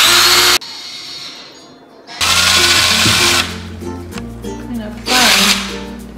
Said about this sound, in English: She's just drilling into a pineapple.